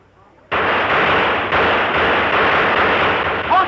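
Rapid rifle and artillery fire from a 1938 war drama bursts in abruptly and roars on continuously, loud and close, with no pause.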